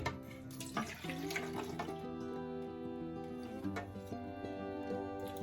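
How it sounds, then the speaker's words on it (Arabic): Milk poured steadily into a bowl as the first liquid ingredient for a corn cake, a continuous soft splashing stream with faint kitchen hum, close and moderately quiet. "هنبتدي اول حاجه هنعملها، هنحط الحليب"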